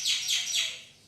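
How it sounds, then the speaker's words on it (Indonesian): Bird chirping in the morning, three bright descending tweets in quick succession, clear and fairly close, with no other sounds around them. "Itu burung ngocehnya pada pagi tok."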